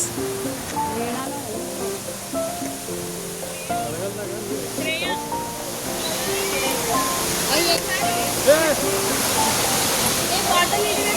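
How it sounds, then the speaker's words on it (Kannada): Steady broadband rush of Vibhuti Falls waterfall runs through the whole stretch, with people talking intermittently over the roar. "ಇದು ನೀವು ನೋಡ್ತಿದ್ದೀರಲ್ಲ, ಇದು ವಿಭೂತಿ ಫಾಲ್ಸ್."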